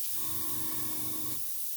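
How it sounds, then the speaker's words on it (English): An aerosol can sprays red paint onto a stencil in one steady hiss lasting just over a second, close and fairly loud, then cuts off. "So now we can just spray the red."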